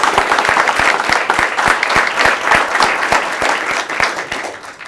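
A room of attendees at a live speaking event claps for Gene. The applause is dense and sustained, with sharp individual claps standing out in a quick, fairly even rhythm for about five seconds.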